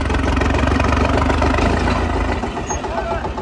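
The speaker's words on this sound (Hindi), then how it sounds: "अब बैटर अभी धूप नहीं रहा, तो ट्रैक्टर सही जोर लगा रहा" New Holland 3630 tractor engine laboring under load while pulling a fully loaded trolley, a loud, close, steady diesel drone with a strong low rumble that eases slightly near the end.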